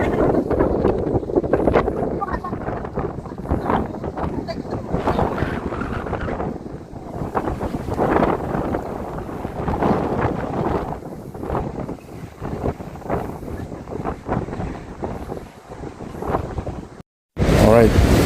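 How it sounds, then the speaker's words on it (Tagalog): Strong wind buffets the microphone at Kapurpurawan rock formation on the Ilocos Norte coast, a loud continuous roar with gusty surges, while people talk over it, ending in a brief cutoff and a final gust. "Grabe yung hangin"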